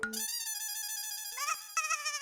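A phone ringtone plays for an outgoing call, a clear electronic melody of sustained tones that shifts pitch twice, heard alone and close.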